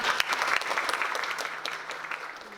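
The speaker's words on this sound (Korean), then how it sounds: "박수로 맞이해 주시기 바랍니다" A crowd claps steadily, a dense wash of applause that holds for a few seconds and then tapers slightly toward the end.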